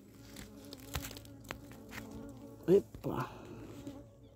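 Wild bees at their nest in winter, buzzing with a low, wavering drone up close, broken by a few rustles and knocks, while a person gives a short exclamation.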